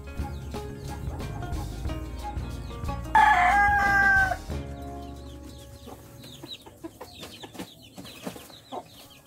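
Native chickens outside, with a rooster giving one clear crow partway through amid scattered clucking and other farmyard noises at moderate distance.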